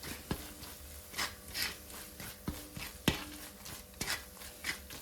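Cardamom powder being stirred through millet flakes in a pan, a close scraping and rubbing of the spoon with repeated soft strokes and a few sharper knocks, no voices.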